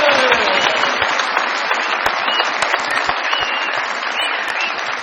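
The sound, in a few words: studio audience applause welcoming prize winner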